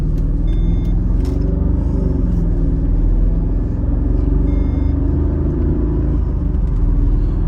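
A low, steady engine rumble from a moving 2006 Mercedes SL500 on coilovers, continuous and close, with road noise and no voices.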